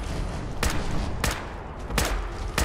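Gunfire rings out in the video game Fallout 4 during a jungle fight with a mutant creature, four sharp loud shots spaced about two-thirds of a second apart over rumbling game ambience, with no talking.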